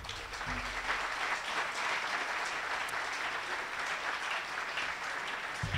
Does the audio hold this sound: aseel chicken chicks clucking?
no